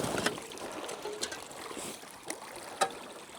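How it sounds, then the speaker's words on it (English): A shallow winter stream flows with a steady, close rush of water, broken by a few sharp splashes and knocks. "Water's definitely flowing."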